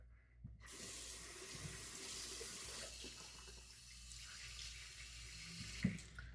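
Tap water runs steadily from a bathroom faucet during a wet shave with tallow shaving soap, a continuous close splashing hiss with a brief louder splash near the end.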